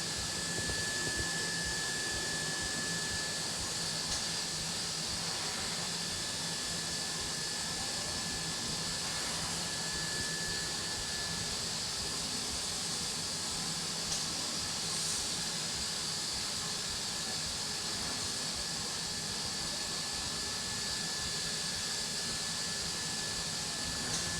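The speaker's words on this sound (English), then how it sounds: "see how the chips are blown off the table" Compressed air blasts steadily across a DATRON milling machine table to clear metal chips, a loud, continuous broadband hiss with a faint whine running under it, unbroken throughout, with no voices.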